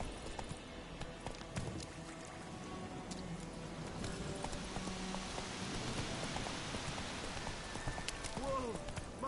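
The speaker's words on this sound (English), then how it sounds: "Run, Roach. I will give you such a lashing." A horse running in The Witcher 3, rapid hoofbeats pounding under rain and outdoor ambience, moderately close and continuous, with a few faint voice-like sounds and a rising whistle near the end.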